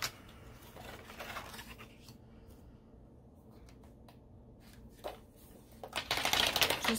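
Sheets of paper are handled for a tutoring notebook, producing faint rustling, shuffling and crinkling, quiet and close, with a louder flurry of paper noise near the end.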